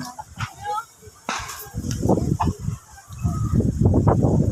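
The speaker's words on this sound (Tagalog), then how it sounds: "Daming manok." Chickens clucking outdoors on a windy hill, with intermittent close clucks and squawks over rustling wind noise; voices are faintly present.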